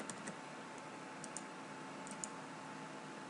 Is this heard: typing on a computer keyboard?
yes